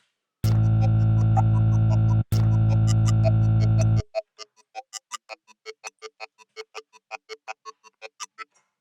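A steady, buzzy synth bass tone run through a phaser holds for a few seconds with a brief dropout, then gives way to a string of short, evenly spaced plucked pulses.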